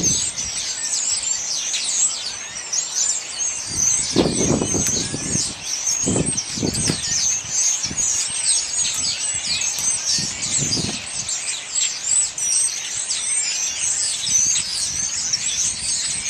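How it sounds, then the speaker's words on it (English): A large flock of starlings crowds into a pine tree, filling the air with dense, continuous chattering, whistles and squeals throughout, with a few low rustles and thumps of movement in the branches. "There's a bunch of starlings getting into this pine tree."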